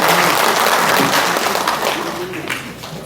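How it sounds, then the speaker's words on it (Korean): An audience claps at a book launch ceremony where plaques of appreciation are presented, a dense, loud wash of applause that fades slightly toward the end. "네, 큰 박수 부탁드리겠습니다."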